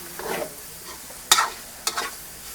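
Pancit bihon noodles with soy sauce being stir-fried, a soft sizzle broken by two sharp scraping clatters of a utensil against the pan, close and fairly quiet.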